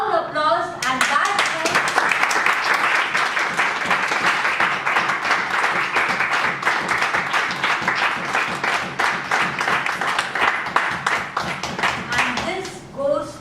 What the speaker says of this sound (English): It calls for loud applause